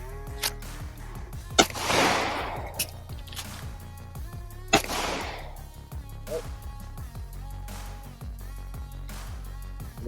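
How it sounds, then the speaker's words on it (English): Magazine change on a Taurus G3 Tactical pistol: a few sharp mechanical clicks and snaps with rustling handling noise in between, close and moderately loud over a steady low background hum. "let's do a magazine change here"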